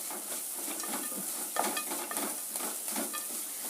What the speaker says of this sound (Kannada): ಪೇಸ್ಟಲ್ಲಿ ಹಸಿಮೆಣಸಿನಕಾಯಿ ಎಲ್ಲ ಹಾಕಿರೋದ್ರಿಂದ ಸ್ವಲ್ಪ ಹಸಿ ವಾಸನೆ ಹೋಗಂಗೆ 1-2 ನಿಮಿಷ ಮೀಡಿಯಮ್ ಫ್ಲೇಮ್ನಲ್ಲಿ ಬಾಡಿಸ್ಕೊಳ್ಳಿ